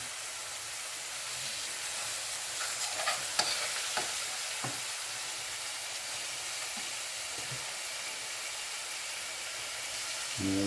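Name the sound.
garlic rockfish fillets frying in a stovetop pan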